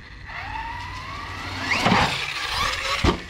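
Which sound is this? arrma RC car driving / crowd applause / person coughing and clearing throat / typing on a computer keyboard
arrma RC car driving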